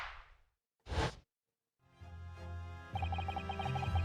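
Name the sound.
Venus special firework set off, in a video game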